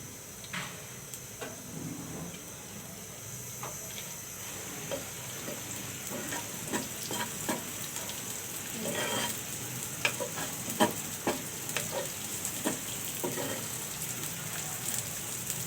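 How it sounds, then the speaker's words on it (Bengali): Onions fry in mustard oil in a pan for a leafy greens dish, giving a soft, steady sizzle. The sound is faint and fairly distant, with scattered light ticks and scraping of stirring throughout. "আমি পেঁয়াজটা লাল করে নিব"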